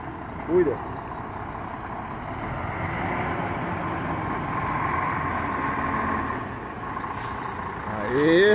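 A truck engine rumbles steadily while the truck is parked, then a sharp hiss of air brakes bursts out near the end, with brief voices heard nearby.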